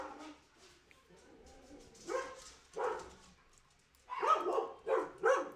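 Several dogs indoors barking in short bursts, quiet at first then louder near the end, with a few whimpers and yips between barks.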